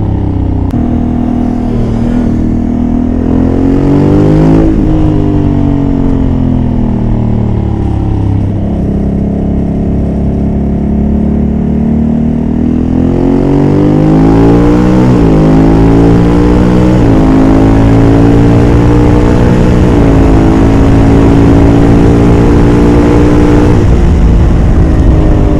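A 2021 Honda Africa Twin motorcycle on its stock exhaust rides a race track, its engine loud and close, rising and falling through revs with repeated accelerations, gear changes and downshifts, and no talking.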